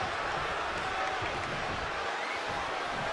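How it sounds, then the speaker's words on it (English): A capacity arena crowd roars in the WWE 2K23 wrestling video game, a dense, loud and steady wall of noise that holds without a break for a few seconds. "you hear this capacity crowd following you on that journey"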